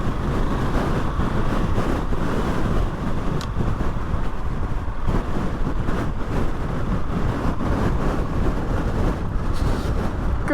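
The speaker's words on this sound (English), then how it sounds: "God, that is windy." Strong wind buffets the microphone in a continuous broadband roar with gusty surges, heard while riding a Husqvarna 701 motorcycle on a green lane in the Yorkshire Dales.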